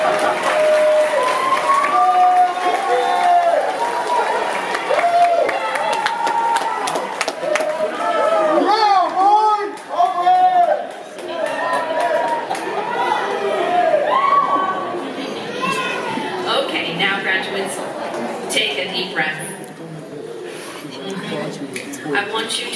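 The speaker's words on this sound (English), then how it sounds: "give a round of applause to those who have supported you" Graduation ceremony audience at the Art Institute of Jacksonville applauding and cheering in a large hall, a sustained wash of clapping with shouts and whoops, chatter and voices mixed throughout.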